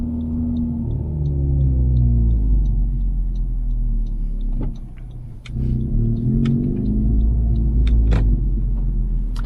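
Manual transmission car driving, a steady deep engine rumble with harmonic tones that shift as it revs, a brief dip around a gear change, heard from inside with faint ticks and clicks.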